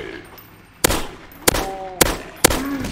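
Four sharp gunshots ring out at roughly even half-second intervals in a fan-made Half-Life video game, each a loud crack with a brief tail over a quiet background.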